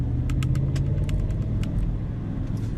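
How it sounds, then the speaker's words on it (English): A 2017 GMC Yukon Denali with a 6.2 liter V8 engine idles with a steady, deep, close rumble and no voices, while faint light clicks and rattles show up on top of the engine drone. "And I just love how it rumbles and grumbles."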